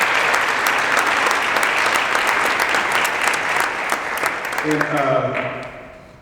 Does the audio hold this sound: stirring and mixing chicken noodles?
no